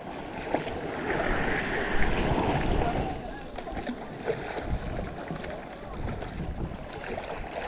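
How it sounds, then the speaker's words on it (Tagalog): Choppy sea waves in the West Philippine Sea wash and churn continuously around a moving boat, with wind buffeting the microphone throughout. "Maalong karagatan sa West Philippine Sea."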